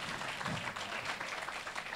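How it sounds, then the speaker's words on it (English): Audience applause at an open forum on Palestine, a faint, steady wash of clapping across the room that sounds somewhat distant. "Let us give it for them a round of applause again."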